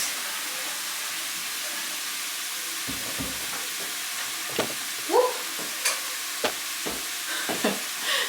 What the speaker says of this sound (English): we're just gonna brown the meat